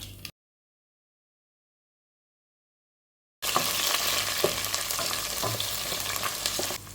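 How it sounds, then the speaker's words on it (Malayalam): Chopped ingredients hit hot coconut oil with spluttering mustard seeds for a Kerala-style rasam, a steady close sizzle and crackle with stirring that starts abruptly after a brief silent gap. "കടുക് പൊട്ടി വരുമ്പോൾ നമ്മൾ നേരത്തെ അരിഞ്ഞു വെച്ചിരിക്കുന്ന എല്ലാം അങ്ങോട്ട് ഇട്ട് കൊടുക്കാം."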